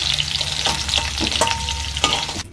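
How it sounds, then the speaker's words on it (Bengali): Cauliflower pieces frying in hot oil in a pan give a steady, close crackling sizzle, broken by a few stirring scrapes and ending abruptly. "আমার কপিগুলো ভাজা হয়ে গেছে, এবার আমি তুলে নিচ্ছি।"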